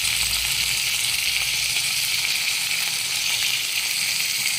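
A spice masala with cumin, turmeric and yogurt fries in a pan, giving a steady, dense, close sizzling hiss that holds evenly throughout with no stirring strokes or voices.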